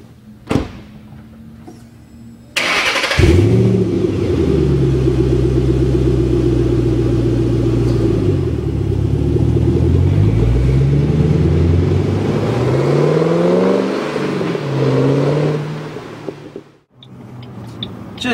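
A Ford Mustang Roush 427R with 435 horsepower runs loud and close, its engine note climbing and falling through several revs while driving for roughly fifteen seconds, following a brief thump and quieter idle at the start.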